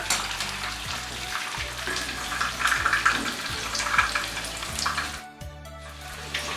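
Fish fingers fry in a pan with a steady crackling sizzle throughout, broken by a brief lull near the end as a piece is flipped, with faint clinks and scraping underneath.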